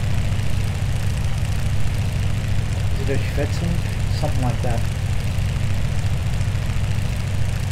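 Shavrov SH-2 seaplane engine idling in Microsoft Flight Simulator 2020, a steady low drone that runs unbroken through the whole stretch while someone talks briefly over it midway.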